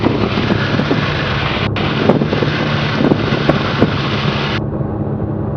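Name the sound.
gusty wind at airfield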